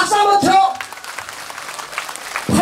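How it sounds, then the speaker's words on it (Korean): Brief, moderate applause from a crowd at a 각설이 street-comedy show during the Pohang fireworks festival, rising between stretches of a performer's loud spoken voice at the start and end. "마지막 박수 한번 쳐"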